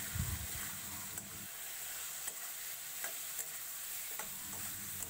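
Spoon stirring turmeric and masala frying over a low flame in a pan for a Bengali bata fish and raw banana curry, with a steady sizzle and periodic scraping strokes, close and continuous with no talk.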